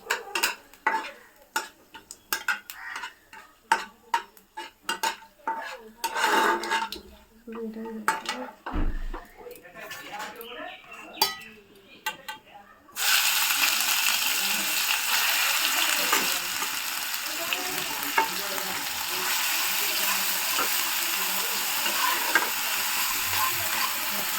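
Metal spoon clinks and scrapes against a pan as whole cumin and spices are stirred, then a loud, continuous frying sizzle takes over for the second half.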